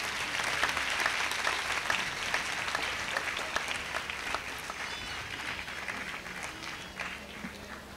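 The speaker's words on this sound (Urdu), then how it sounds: "اس کے لیے ہم فادر جی کا تالیوں سے شکریہ ادا کریں گے." A church congregation at St. Mary's Catholic Church, Model Colony, applauds during a Coronation of Mother Mary service: steady, dense clapping from many hands that holds at an even level from start to finish.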